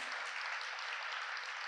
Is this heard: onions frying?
no